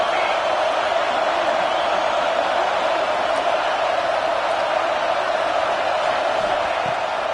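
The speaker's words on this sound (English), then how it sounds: "Third down play in the red zone, and this crowd is at fever pitch." A stadium crowd in a college football video game roars as a steady, loud, unbroken wall of noise at a red-zone third down, with no distinct swells or breaks.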